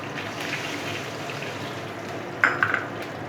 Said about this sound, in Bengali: ফোড়ন দিয়ে দিচ্ছি।